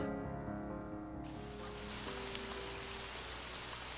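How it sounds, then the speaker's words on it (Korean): Steady rain falls in a video game, a continuous even patter that swells after the first second and holds over a soft musical background, with no voices. "이제 비가 오니까 소년을 집에 갈 거야."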